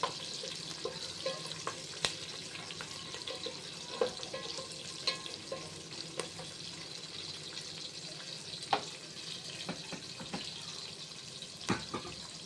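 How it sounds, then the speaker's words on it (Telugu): Chopped onions fry in a pan for a masala brinjal curry, a soft continuous sizzle with scattered faint crackles and occasional light scrapes of stirring, heard fairly close at low volume. "ఈ ఉల్లిగడ్డ మంచిగా ఫ్రై అంత వరకు ఫ్రై చేసుకోండి"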